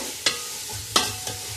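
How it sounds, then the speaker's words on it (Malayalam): Tomatoes sautéing in a pan for a Kochi-style beef and rice dish, with three sharp spatula scrapes and knocks against the pan over a soft, steady background of frying, with no voices. "ഇതിനകത്തേക്ക് ഇത് വഴഞ്ഞതിന് ശേഷം തക്കാളി ചേർക്കാം"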